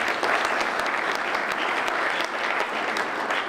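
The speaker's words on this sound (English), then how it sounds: "Round of applause, please." Members at a Rotary Club meeting applaud, a dense, even burst of clapping from a room full of people that holds steady throughout without voices over it.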